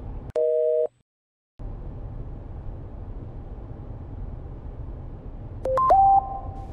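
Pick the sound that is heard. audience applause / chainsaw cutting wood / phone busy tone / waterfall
phone busy tone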